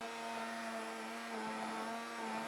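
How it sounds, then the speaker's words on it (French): A blender runs steadily, puréeing a mushroom and parmesan velouté, a continuous droning motor whine with a stable pitch, close and fairly loud throughout, with no talking. "Et là, on va mixer."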